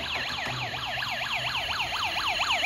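A battery-powered toy police car sounds its electronic siren, a rapid repeating wail sweeping up and down in steady cycles, loud and close with nothing else over it.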